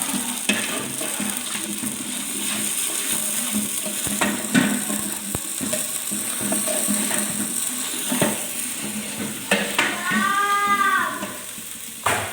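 Bay leaves, four or five of them, are stirred into a frying pan of hot oil for chicken curry, giving a soft sizzle with intermittent scraping and clinks of a spoon against the pan, close and fairly quiet.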